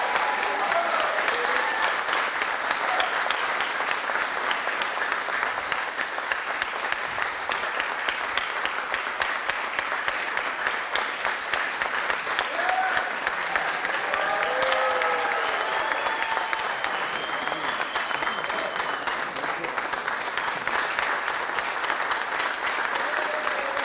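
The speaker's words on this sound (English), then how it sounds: "Can we get a big round of applause for Raj?" A city council meeting audience gives a newly appointed Superior Court judge sustained, even applause lasting over twenty seconds, with a few scattered cheers and voices mixed into the clapping.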